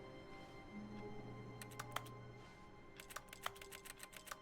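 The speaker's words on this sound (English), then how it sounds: "It sounds like I'm typing at a keyboard." Keyboard typing in the video game The Stanley Parable, quick bursts of soft clicking keystrokes in two short runs, faint over a steady low hum.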